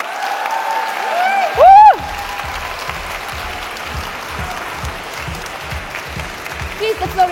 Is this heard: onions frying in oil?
no